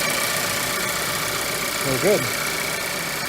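A 2012 Ford Focus SE engine idles steadily after a starter replacement, a constant mid-pitched hum with a brief swell near the two-second mark, while someone speaks briefly over it.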